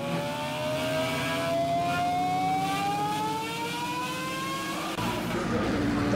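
A Ferrari F49 engine in a vehicle simulator video game roars steadily during a highway race, pitch climbing smoothly as it accelerates, loud and continuous with faint road noise beneath.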